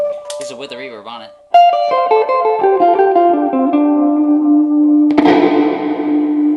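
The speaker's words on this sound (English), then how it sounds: "This is with the reverb on it." Clean electric guitar through a Bogner Alchemist head with reverb on: a brief wobbling phrase, then a descending line of single notes and a final strummed chord ringing out in a wash of reverb, loud and unaccompanied.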